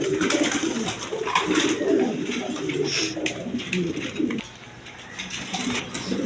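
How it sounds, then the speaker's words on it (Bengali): Pigeons kept for sale, a pair among them, coo repeatedly in a continuous layered chorus, close and fairly loud, with faint background voices and noise underneath. "এক পেয়ার কবুতর আছে দেখেন"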